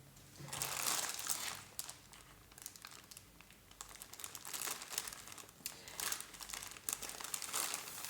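A small scrap of paper crinkles and crumples in the hands, with a busy run of crisp, rustling bursts that rise and fall for several seconds, close up and with no talking.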